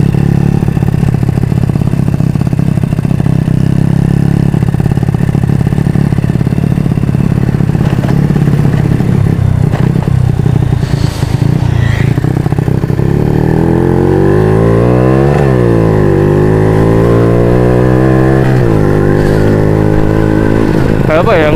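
A Honda Supra motorcycle with a new aftermarket silencer and a modified engine rides along, its steady low exhaust drone close and loud, then rising and falling through several revving gear changes; a rider talks over it.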